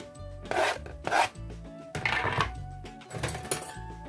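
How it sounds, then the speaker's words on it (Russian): Garlic being rubbed on a fine grater produces several short bursts of dry rasping scraping in uneven strokes, close and moderately loud, separated by brief pauses. "Чеснок натираю на мелкой терке."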